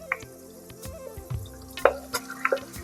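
Marinated quail pieces hit hot oil in a pan, giving a light crackling sizzle with a few sharper pops and stirring clinks, close and alone.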